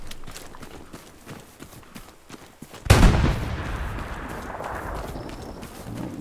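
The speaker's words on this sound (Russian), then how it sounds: "я бросил гранату, прям одну и вторую. Понравилось мне, прям бах-бах." In a Behind Enemy Lines war video game, a grenade goes off with a single sudden, loud blast and a rumbling decay, breaking a quieter crackling battle ambience.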